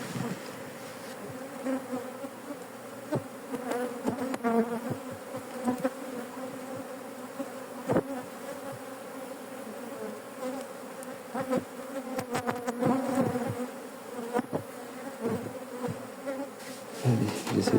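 Agitated honey bees from an aggressive colony that is about to swarm buzz during a beehive inspection. Many insects drone up close, with swelling passes near the listener and occasional knocks from handling the hive.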